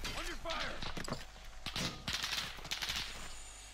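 Gunfire in Call of Duty Warzone, a series of sharp cracks and thuds scattered over a few seconds amid in-game radio chatter and voices.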